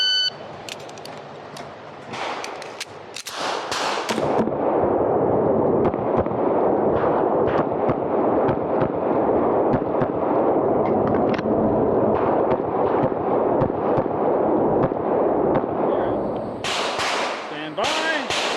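A Bul Armory SAS TAC 4.25 pistol fires shot after shot at an outdoor range, sharp loud cracks in quick, uneven succession over a constant noisy background, with a short pause before more shots at the end.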